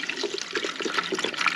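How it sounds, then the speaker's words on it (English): Fuel and water pour out of a Cummins diesel fuel filter bowl on a Holiday Rambler Endeavor motorhome, a steady splashing, gurgling stream that runs continuously and close by. "we can pour out the filter"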